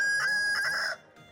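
A rooster crows once, loud and close, its strained call holding for almost a second before cutting off.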